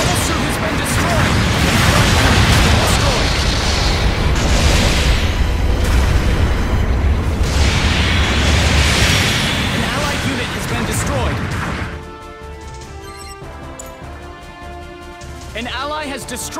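Mobile suits blowing apart in a Moon Gundam mech battle game: dense, loud, sustained explosive rumble and blasts for about twelve seconds, then dropping to quieter game tones and music-like pings, with talk over the action.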